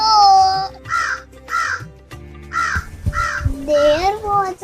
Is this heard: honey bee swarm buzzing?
no